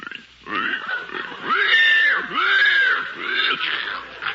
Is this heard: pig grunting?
yes